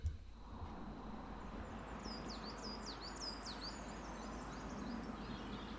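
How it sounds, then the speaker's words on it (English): Birds sing in Old Kirk Braddan graveyard, a run of clear, moderately near chirping phrases rising over a steady outdoor rumble, with quieter calls continuing toward the end. "Well, you can hear the birds better now."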